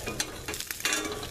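French toast frying in an overheated all-metal pan, a close crackling sizzle broken by scraping and stirring noises, with no voices.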